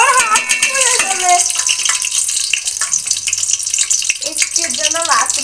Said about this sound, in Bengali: আমি তেলের ভিতরে এখন ঘি দিয়ে দিয়েছি।